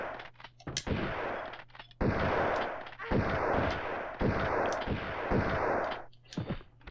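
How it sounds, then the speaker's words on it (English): Several loud shotgun blasts from Tomb Raider 2, fired in close-quarters combat, each a sharp broadband crack followed by a short decaying tail, spaced about a second apart. "I'm just going to go ahead and get my shotgun ready."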